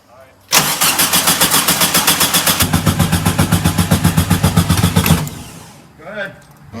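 A performance air-cooled VW engine cranks with a fast, even chugging rhythm for several seconds, loud and close. It then catches and settles, and people talk afterward.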